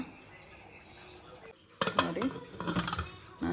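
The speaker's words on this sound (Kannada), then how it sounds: "ನಾನೀಗ ಲಿಡ್ ಕ್ಲೋಸ್ ಮಾಡ್ತಿದ್ದೀನಿ" A metal pressure cooker lid is handled and closed over rice with coriander leaves, giving several close, loud metallic clanks and clinks after a quieter stretch of kitchen background.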